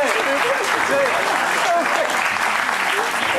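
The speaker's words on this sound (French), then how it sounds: "Merci, applaudissements pour lui." A studio audience breaks into loud, continuous applause on a television talk show, with voices speaking over the clapping.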